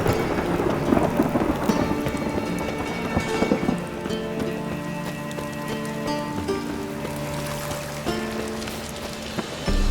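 Steady heavy rain pours down while thunder rumbles low and long through it, a continuous stormy wash with no voices, in the video game The Witcher 3: Wild Hunt.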